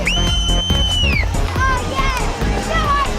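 A dense, loud crowd packed outdoors on New Year's Eve in Las Vegas, with overlapping shouts, chatter and excited voices, and a whistle-like tone rising above the din early on.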